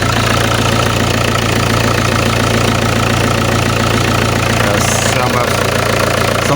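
A diesel Alfa Romeo 156 1.9 JTD 8v runs at idle with a steady, loud mechanical drone and a faint clattering knock, continuous throughout with no talk over it.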